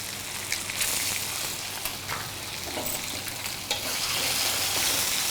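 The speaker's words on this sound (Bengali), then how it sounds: "আপনি জাস্ট এই ভাজা রসুনের মধ্যে নাড়তে নাড়তেই আপনার এই হাঁসের ডিমটা স্ক্র্যাম্বল হয়ে যাবে।" Duck egg scrambles in hot oil with fried garlic, giving a steady soft sizzle with occasional scraping stirs and small pops, close by and fairly quiet, no voices.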